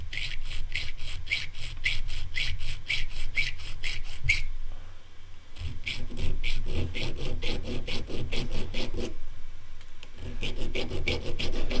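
Handsaw cutting wood along a marked line on a clamped workpiece, a steady rapid back-and-forth rasp of close strokes with two brief pauses.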